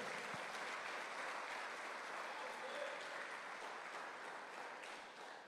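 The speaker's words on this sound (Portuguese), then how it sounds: "Vamos aplaudir o Senhor por essa certeza?" Congregation clapping in a church service, a dense, even roar of applause heard from some distance that holds steady and then tapers slightly toward the end.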